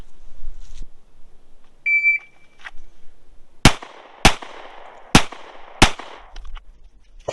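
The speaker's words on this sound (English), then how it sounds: "You can see I tried to preemptively guess when it was going to beep" A short electronic shot-timer beep sounds at a shooting range, followed moments later by four sharp, loud gunshots in a steady rhythm, with quiet background otherwise.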